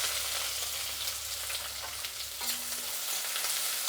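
Chopped onion sizzling in hot oil with mustard seeds and chana dal for a tempering, a steady bright hiss with stirring scrapes and a brief metallic clink partway through.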